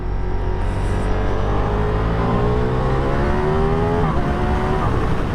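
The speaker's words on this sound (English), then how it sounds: "It does sound alright, but you know, I think to have that Diavel sound, it wants a full system on it" A 2023 Ducati Diavel V4 motorcycle engine with its stock exhaust drones loud and close, pitch climbing steadily as it revs, then briefly dips and rises again near the end.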